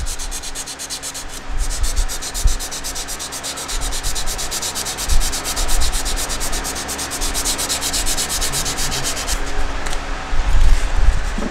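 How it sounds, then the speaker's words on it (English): Steady, continuous scraping of 400 grit sandpaper on a hidden tang knife, with a fine, hissy rasp, close and moderately loud, running without pause and with no voices. "go up to our 400 grit and get rid of any of these sanding lines"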